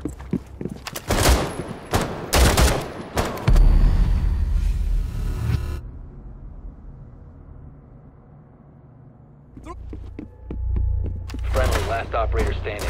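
Bursts of rapid gunfire in a team-based shooter video game, loud close volleys at the start, a quieter humming stretch in the middle, then more shots crackling near the end.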